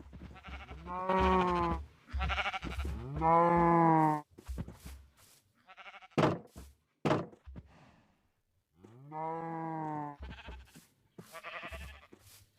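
Sheep bleating in Minecraft Bedrock Edition: several close, clear bleats come in bursts, with short dull thunks and clicks in between and silent gaps.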